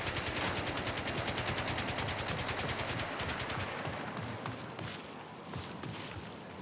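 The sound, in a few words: turret gunfire in video game Marathon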